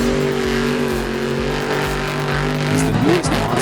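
Scooby-Doo Monster Jam truck from Warner Brothers revving loud and close, a steady engine drone with a rising whine and tire skid near the end, no talk.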